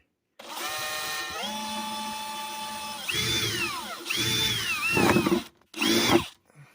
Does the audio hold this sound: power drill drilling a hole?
yes